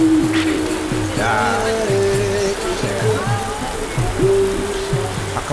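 Heavy rain pours down outdoors as a steady, dense hiss, while several people talk and exclaim over it throughout.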